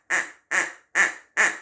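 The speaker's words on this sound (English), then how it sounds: "you just take the wings and squeeze it together" Four evenly spaced, loud quacks from a plastic duck-decoy dog toy as its wings are squeezed together, each squawk short and nasal with a brief gap between.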